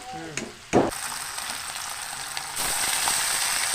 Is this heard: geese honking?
no